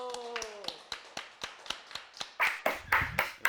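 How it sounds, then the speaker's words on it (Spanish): A small online group claps together at the close of a live theatre broadcast, with a run of sharp, fairly evenly spaced hand claps that grow louder and denser toward the end. A voice and a sustained tone are heard at the start. "¡Un aplauso!"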